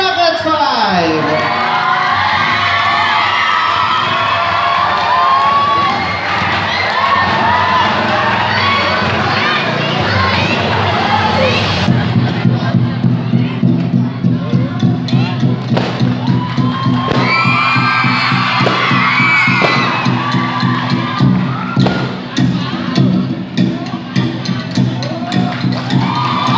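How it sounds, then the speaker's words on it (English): A large crowd at a Filipino parish fiesta cheers and shouts for a performing group, loud and continuous, shifting into rhythmic clapping and whoops partway through. "der the supervision of Sister Amada Antonio, let us give them a round of applause to bracket five"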